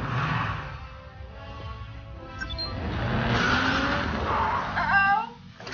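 Car tires squealing and skidding in an animated fight, a long screeching slide over engine roar and background music, rising louder toward the end before cutting off.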